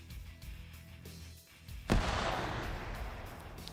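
A single grenade blast bursts out in a video game PvP match, a sharp crack followed by a long rumbling, debris-filled tail, preceded by faint distant popping shots.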